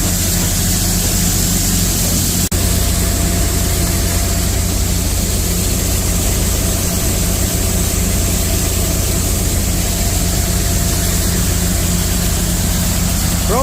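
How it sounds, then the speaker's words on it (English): An 8-inch grain auger runs during a corn harvest, a steady, loud mechanical rumble with a low engine drone that continues unbroken throughout. "For only being an 8-inch auger, that thing will flow some grain."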